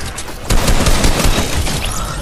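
A minigun fires in Fortnite Chapter 2 Season 8: a dense, loud, continuous rattle of rapid shots kicking in after a short lead-in and hammering on without a break, close and overpowering.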